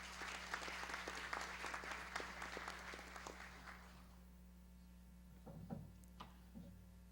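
Applause from the audience at a solemn legislative ceremony in São Paulo, a brisk, fairly faint patter of clapping over a low electrical hum that fades out by the midpoint, leaving a few stray sounds.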